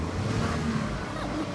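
A pickup truck's engine rumbles steadily nearby as a thief drives it away, a low continuous drone under faint background noise.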